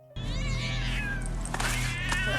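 A cat meows in a scene from the 2025 horror film Bring Her Back, with rising and falling tonal cries over a steady low hum and film score, loud and close throughout.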